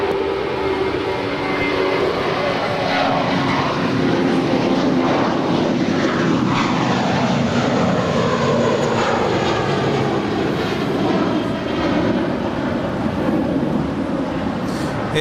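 An airliner departing Los Angeles International Airport, a broad, steady jet engine roar heard from the spotting area at a distance, sustained and fairly loud throughout with no talk over it.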